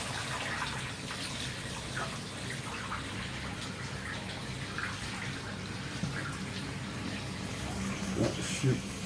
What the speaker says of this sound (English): So we're now running the hot water.